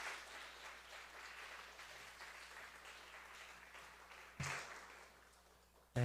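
Church congregation claps to welcome a pastor arriving for a lecture, a soft, steady patter of applause heard from some distance, with a louder knock near the end.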